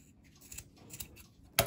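Scissors snip off excess thread on a sock pumpkin craft, with a few soft clicks leading to a single sharp, close cut at the end of a quiet moment.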